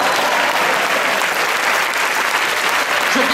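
Loud, sustained audience applause at a Quebec stand-up comedy show, a dense steady wash of clapping that fills the room from start to finish.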